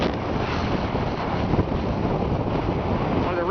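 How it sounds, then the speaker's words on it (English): Strong wind at sea on a solo sailboat with squall lines around the horizon roars steadily and loudly, buffeting the microphone with a constant rushing wash and no voices. "One of the reasons for all this wind is the squall lines that are all around the horizon."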